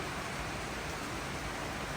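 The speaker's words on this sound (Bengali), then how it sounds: "এই যে বৃষ্টি রহমতের বৃষ্টি প্রচণ্ড গরমের পরে স্বস্তির বৃষ্টি" Heavy rain falls steadily after a spell of intense heat, a dense, even hiss of downpour close by with no voices, constant and unbroken throughout.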